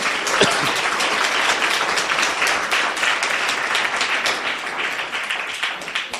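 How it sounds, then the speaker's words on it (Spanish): A church congregation gives the Lord a sustained round of applause, many hands clapping densely and steadily throughout at close range, with no talking over it. "Dale ese aplauso al Señor como Él se lo merece"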